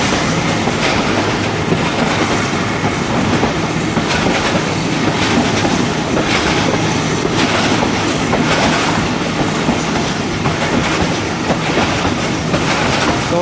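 Rehman Baba Express train running between Hafizabad and Lala Musa in Pakistan as the driver notches up the locomotive, with a loud, steady rumble and rhythmic wheel clatter throughout, no voices.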